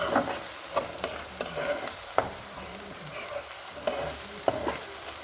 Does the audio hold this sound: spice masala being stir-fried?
yes